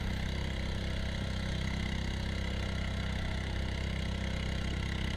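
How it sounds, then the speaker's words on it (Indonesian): A motorized canoe putters steadily along a rocky river, its mid-pitched engine droning in a constant unbroken hum with no voices over it. "Untuk menempuhnya, kita menggunakan sampan motor pemirsa"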